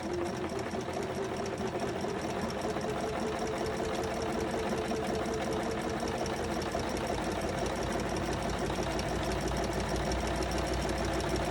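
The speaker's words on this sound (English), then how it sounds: "I'm not pulling on the fabric while I'm sewing it." A sewing machine runs continuously at steady speed while stitching knit t-shirt fabric, a close, even mechanical whir and rapid needle chatter throughout with no talking.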